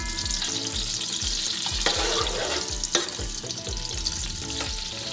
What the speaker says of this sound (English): Let this onion fry a little bit.